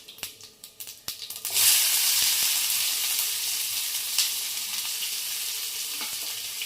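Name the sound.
chopped onion frying with mustard seeds and cumin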